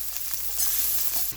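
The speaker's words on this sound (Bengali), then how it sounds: "এখন রসুন এবং পেঁয়াজ কুচি দিয়ে নিলাম। ভেজে নিব।" Chopped garlic and onion fry in hot oil with a steady, close sizzle, broken by light stirring sounds.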